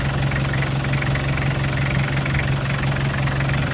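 A car engine idles smoothly and steadily, a constant low hum and rumble at close range with no variation.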